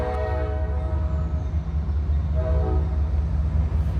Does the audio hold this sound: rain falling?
no